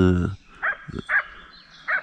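Small dog barking outdoors near the Prut river, three or four sharp barks spaced apart at moderate distance, with a voice briefly at the start.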